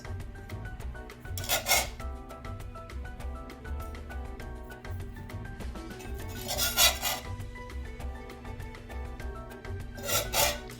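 A spatula scrapes katayef pancakes off a pan and onto a plate, three brief rasping scrapes spaced a few seconds apart, close and fairly quiet over a steady hum.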